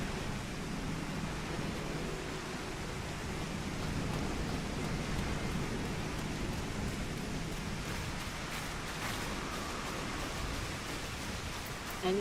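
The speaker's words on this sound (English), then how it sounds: "Oh, it's raining." Steady rain in the Final Fantasy XIV video game, a dense, continuous hiss of falling drops that holds evenly throughout, with no voices.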